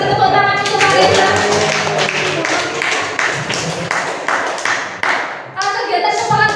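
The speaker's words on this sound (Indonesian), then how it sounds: "kita beri tepuk tangan untuk Pak Reza" A room of teachers at a training session clapping for a presenter, brisk close handclaps with a rhythmic, partly unison beat, and voices mixed in.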